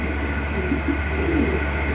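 Pigeons cooing at a pigeon seller's place, soft low repeated coos under a steady hum of background noise, close but not loud.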